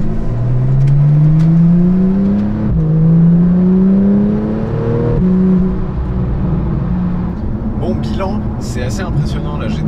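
A Porsche 911 991.2 GTS accelerates hard with overboost engaged, its loud engine climbing steadily in pitch through successive gear shifts before easing off, heard from inside the car.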